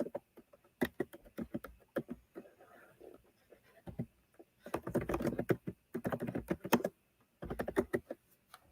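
Typing on a computer keyboard, quick irregular bursts of soft key clicks with short pauses, fairly faint and close.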